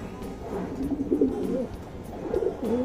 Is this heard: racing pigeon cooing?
yes